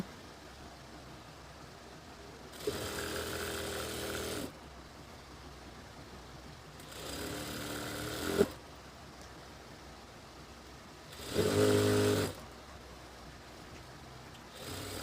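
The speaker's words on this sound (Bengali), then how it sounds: "জয়েনের উপর দিয়ে আমরা একটা চাপ সেলাই মেরে দেব" A sewing machine runs a topstitch over the joined seam of a hijab, whirring in three short bursts of a second or two each, separated by quiet pauses, fairly close in a quiet room.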